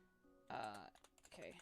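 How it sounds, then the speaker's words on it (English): Typing on a computer keyboard, a few quick clicks of keys heard close up, mixed with a person's voice and other tonal sounds. "Or hear me typing."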